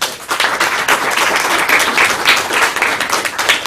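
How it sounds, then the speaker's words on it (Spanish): An audience applauds after a talk at an academic dialogue on population, city and environment, a loud, close burst of continuous clapping in brief surging waves. "Un aplauso."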